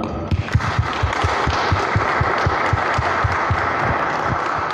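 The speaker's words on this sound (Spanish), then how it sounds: "los recibimos con un aplauso" Applause from an audience welcoming guests at a faith symposium, a dense steady clapping that fills the whole stretch at moderate loudness, with no voices over it.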